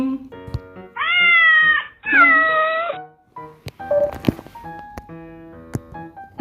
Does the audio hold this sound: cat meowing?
yes